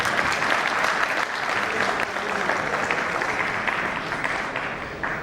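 Sustained audience applause at a live talk on marriage, steady and fairly loud clapping from a large crowd throughout, with no speech over it.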